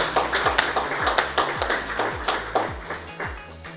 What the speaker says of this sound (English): let's give a round of applause to all our speakers